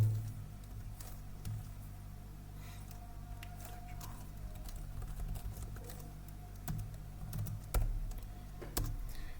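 Typing on a computer keyboard in Microsoft Word makes sparse, quiet key clicks. They come in short, irregular bursts with a few louder taps over a faint room background.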